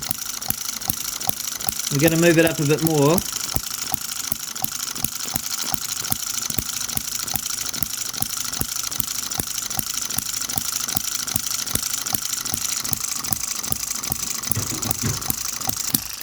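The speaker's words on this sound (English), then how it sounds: "That is a happier engine firing there." A small M96 Oddball 2cc hit-and-miss model engine runs nearby in a steady, rapid chuffing beat with a light rattle, while a person briefly speaks over it.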